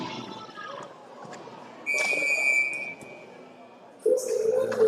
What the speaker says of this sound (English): so that'll get the whistle.